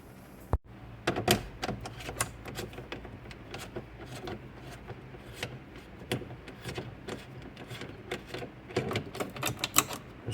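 Metal ratchet and wrench clicks come in short irregular bursts while two 10mm bolts are backed out of the hatch latch lever assembly on a Volvo 850 or V70 wagon, close and fairly quiet with pauses between.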